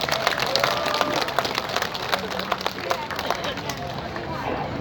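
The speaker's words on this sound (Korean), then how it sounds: "큰 박수 부탁드리겠습니다." A crowd at a political party gathering in Korea breaks into applause, dense clapping mixed with crowd murmur and voices talking over it, steady and fairly loud for the whole stretch.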